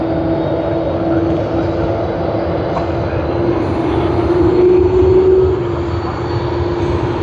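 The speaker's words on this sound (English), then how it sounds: "Closer look at the A330 of Qantas." A Qantas Airbus A330 airliner at Sydney Airport produces a loud, continuous engine drone with a steady whining tone running through it, close and unbroken, with faint speech beneath.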